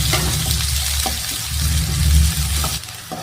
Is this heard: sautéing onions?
yes